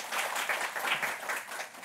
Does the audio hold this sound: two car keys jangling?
no